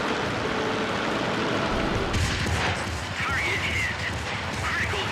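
A P-38F fighter fires its 37mm cannon in World of Warplanes, with bursts of heavy gunfire and booms over steady engine drone, and someone talking over the action.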